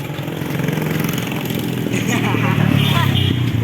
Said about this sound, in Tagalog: so daming mga motor ngayon na dumadaan. So mabibilis ang kanilang mga takbo.